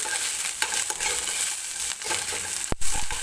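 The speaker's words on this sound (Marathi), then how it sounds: "ते जिरे सुद्धा मी कांद्यासोबत भाजून घेते." Cumin seeds roast with onions in a pan, a soft sizzle broken by scraping stirs and one sharp knock of the spoon near the end; no talking.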